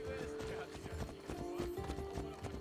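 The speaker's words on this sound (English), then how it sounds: "It's a mercenary over there. Tending to his horse." Horse hooves clop in a rhythmic trot in the Assassin's Creed Odyssey game, with a whinny, set against background music and ambience.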